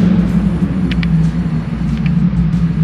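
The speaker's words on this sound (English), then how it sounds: "It just sounds so good coming up the street. Ah, no one's in here. Loudest freaking Lambo ever." A loud Lamborghini drives up a street, its deep, steady engine rumble droning continuously and close by, with a few faint higher chirps over the low growl.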